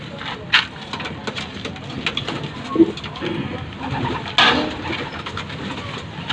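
A few short pigeon coos from a bird in a trap sound at intervals against a steady, noisy background hiss, fairly faint and scattered rather than continuous.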